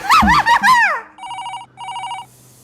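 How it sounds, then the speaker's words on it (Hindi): A voice sounds briefly, then a telephone rings with two bursts of bright electronic trilling, loud and close. "कब से फोन बज रहा है? उठा क्यों नहीं रही है?"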